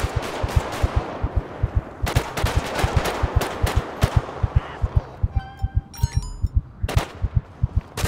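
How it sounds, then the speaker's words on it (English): Rapid bursts of gunfire in the video game GTA 5, a steady run of sharp shots repeating in quick rhythm for several seconds with brief electronic tones in between, loud and close with no talking. "Where the shots coming from?"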